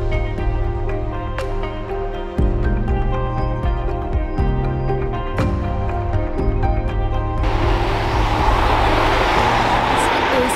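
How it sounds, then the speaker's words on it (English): Cars pass along a roadside in Positano, Italy, with engines and tyres rising and fading close by. A steady rush of traffic noise builds toward the end, and no speech is clear. "This is the road where cars are driving by every 3 seconds"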